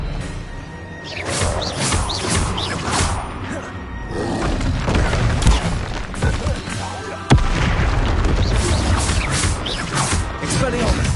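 Repeated Expelliarmus disarming spells fire during a Hogwarts Legacy duel, with a run of heavy booms, thuds and crackling bursts, loud and continuous, and a sharp blast near the end.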